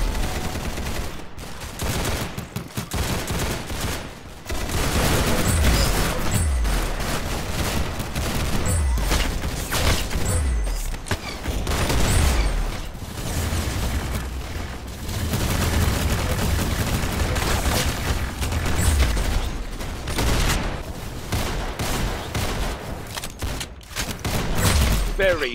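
Gunfire in the Roblox game Arsenal, dense rapid bursts of shots sustained almost continuously, loud and close, with a voice talking over the action.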